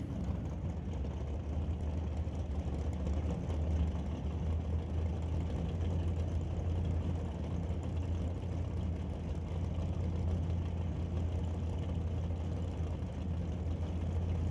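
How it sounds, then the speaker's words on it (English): At a Super Pro drag race, a Duster and a 1967 Camaro rumble with a steady, deep engine drone that holds evenly and moderately loud without any launch surge. "The P&W Adventures Duster races Fred Hoffman with his 67 Camaro."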